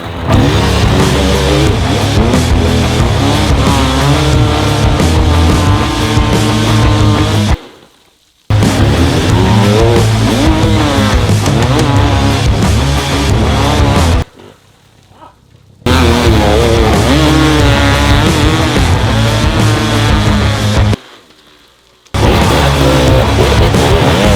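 A loud enduro motorcycle engine revs hard and strains at high pitch in long sustained bursts while climbing a steep hill, broken by two or three short silent gaps.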